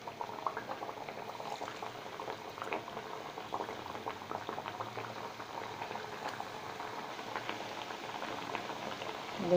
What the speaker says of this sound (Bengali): তেলের ভিতরে আমি এক এক করে পিঠেগুলো দিয়ে দেব।